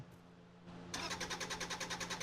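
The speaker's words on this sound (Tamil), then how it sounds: "வண்டி ஸ்டார்ட் ஆகிடும்னு நினைக்கிறேன்" Car engine starting in the driving game Drive Beyond Horizons: a short cranking whir, then the engine catches into a steady, pulsing idle, fairly quiet and alone.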